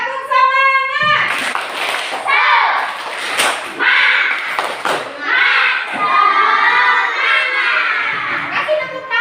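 A group of schoolchildren in a classroom do a rhythmic clapping cheer, loud chanted shouts and claps in a quick pattern, with a teacher's voice in between.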